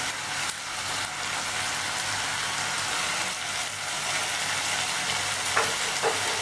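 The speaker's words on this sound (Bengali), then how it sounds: "এরপর আমি মাছ ভাজাগুলো এর মধ্যে দিয়ে দিচ্ছি" Fried rohu fish pieces go into a hot pan for a poppy seed curry, bringing a steady, dense sizzle and hiss throughout, with a couple of soft clinks from stirring near the end.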